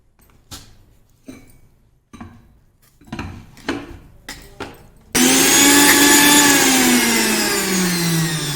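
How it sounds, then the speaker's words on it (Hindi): A kitchen mixer grinder works on soaked puran filling in a jar: a few separate knocks and clatters come first, then the motor roars on loud and steady, holding a continuous high whine to the end. "इस तरह से मैं इसको इस जार में लेकर अभी मिक्सर में पीसती हूँ"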